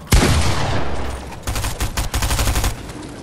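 Gunfire in the video game Fortnite as shots strike player-built structures: one sharp, loud report, then a rapid, close string of repeated shots in quick bursts.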